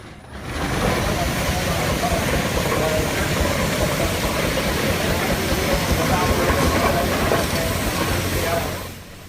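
Antique steam traction engines at a steam engine association show in southwest Missouri rumble and chug steadily and loudly for several seconds, a dense continuous mechanical roar with no clear whistle blasts standing out.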